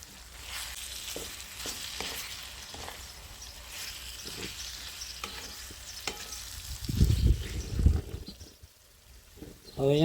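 Soaked soya chunks being stirred into a tomato and onion paste, a soft steady sizzle with spoon scrapes and clinks against the pan, growing louder with heavier stirring near the end.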